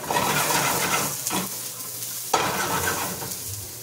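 Garlic browns in a hot frying pan for stir-fried pig ear, giving a loud, continuous sizzle close up, broken by two brief dips and a sharp scrape of stirring.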